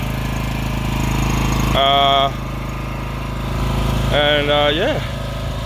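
A petrol engine with a 15-litre fuel tank, being run in, drones steadily and loudly up close throughout, with two brief whining tones rising over it; a voice says a single short word.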